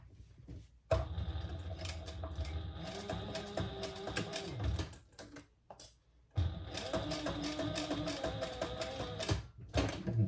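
Sewing machine stitching a leather waist pack with brown thread, a close, rapid mechanical chatter in two long runs separated by a brief pause and a short quiet gap, with no talking.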